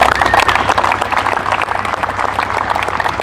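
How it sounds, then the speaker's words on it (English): A crowd applauds both teams at a youth cricket final, with steady, dense clapping from many hands sustained throughout and a faint low hum beneath. "A big round of applause to both the teams for making it to the finals."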